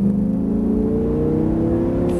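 An Audi R8 sports car engine revs hard and steady on a race circuit at Abbeville, a loud rising drone with strong harmonics, close and continuous throughout.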